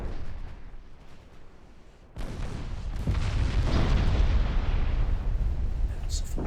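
Naval gunfire from German steel warships in the game Ultimate Admiral Dreadnoughts: a sudden low boom opens into heavy, sustained rumbling blasts that stay loud and dense to the end.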